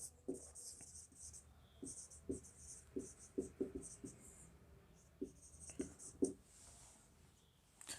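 A teacher writes on a board during an English grammar lesson: soft, irregular scratchy strokes in short bursts, quiet and close, with faint murmuring in the background.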